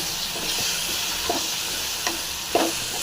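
Radish frying in a pan with tomato and masala for a spicy kuzhambu, a constant close sizzle with a few soft stirring knocks spaced through it.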